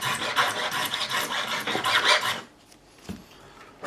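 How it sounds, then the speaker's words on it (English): A crowning file rasps back and forth across a fret on a Squier Jazz bass to clear burrs, quick close scraping strokes for a couple of seconds, then quiet with a faint tap. "wipe the crowning file on the profiling file, straight across the top, just removing any burrs"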